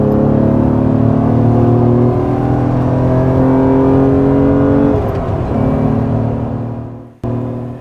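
A 1994 Acura NSX NA1 cruises on the highway, its steady engine drone and road noise holding close and even before easing off near the end.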